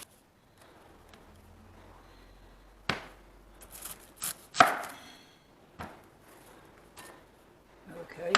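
A knife cuts through a coconut, one of several cuts made to fit the pieces into a Magimix food processor chute; a few sharp chopping knocks and cracks stand out over a quiet kitchen background.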